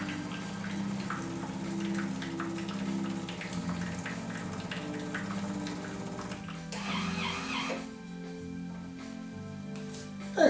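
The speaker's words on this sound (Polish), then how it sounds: "Obwód mleka jest płukany." A Jura Z9 coffee machine rinses its milk circuit with a steady pump drone and running, gurgling water that carries on for several seconds, then changes and settles into a quieter flow near the end.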